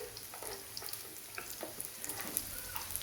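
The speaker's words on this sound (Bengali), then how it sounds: "পেঁয়াজ অ্যাড করে দিলাম। এখন ভালো করে নেড়ে দিতে হবে।" A cup of onions fries quietly in a pan for a fish curry, with a soft steady sizzle and light scraping taps of stirring, faint and close, no voices.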